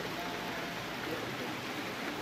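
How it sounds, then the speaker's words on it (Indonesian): Steady rain falling at an outdoor spot under a mango tree, a soft, even hiss with no pauses and no voices. "Suasana hujan masih berlangsung."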